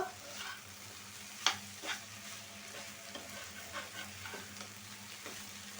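Bhaji fritters frying in a pan give off a steady quiet sizzle, broken by soft scraping stir strokes and a few sharper clinks of the spatula against the pan.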